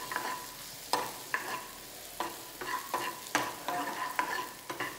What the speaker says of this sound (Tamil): நல்லா ரா ஃப்ளேவர் போகாமல் நல்லா ஃப்ரை பண்ணணும்.